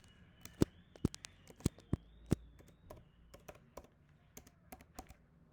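A computer keyboard clicks as a password is typed: a handful of sharp, distinct keystrokes followed by quicker, softer taps, close and fairly quiet against a faint background hum.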